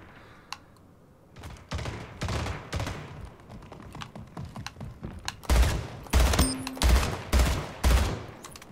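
Gunfire from the video game Splitgate: a burst of rapid shots, then several loud, evenly spaced blasts near the end, with some quieter clicking between them.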